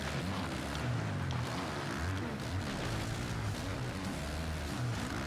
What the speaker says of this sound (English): the motorcycle sounds are quite good. It does sound like a dirt bike